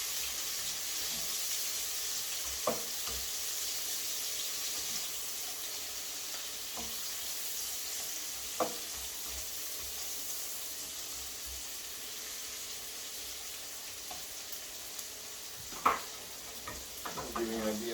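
Deli onions, green pepper, sausage and Spam frying in a pan give a steady, soft hiss of sizzling fat. A few sharp utensil clicks break through now and then, with a louder clatter near the end.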